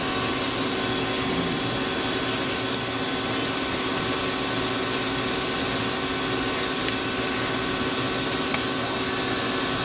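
A 2011 Tsugami S206 CNC Swiss lathe back-drills on its spindle at about 2,000 RPM, giving a steady, loud machine whir with a constant tonal hum that does not change throughout.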